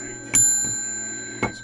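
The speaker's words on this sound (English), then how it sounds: "I got a cool old hotel desk bell" An old hotel desk bell with a cast iron base and brass top is struck twice, each ring a sharp, loud ding with a long, clear sustain that slowly fades between strikes.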